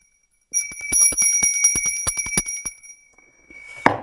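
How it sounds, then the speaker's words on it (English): Opening bell at a stock market open, a rapid metallic ringing of steady repeated strikes with sustained tones lasting about two and a half seconds, loud and close, then fading, followed by a brief clatter. "Go on, ring that bell, Chris Beecham."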